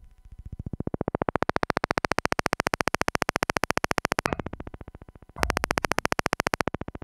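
A low, buzzy modular synthesizer oscillator tone pulses in a fast regular stream, swelling in brightness, cutting out briefly, then returning.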